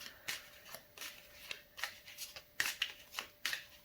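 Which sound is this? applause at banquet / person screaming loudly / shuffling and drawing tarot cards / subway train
shuffling and drawing tarot cards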